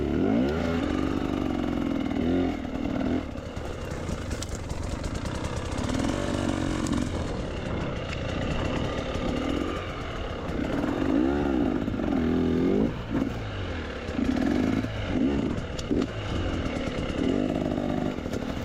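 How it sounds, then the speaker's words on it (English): A two-stroke dirt bike engine works along a wooded trail, a close, buzzing drone that rises and falls with revving bursts and throttle changes throughout, with no voices. "One thing on the power delivery of the 2-stroke does have a little bit of a power band."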